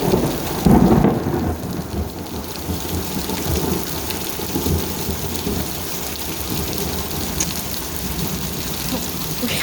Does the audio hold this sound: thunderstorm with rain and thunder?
yes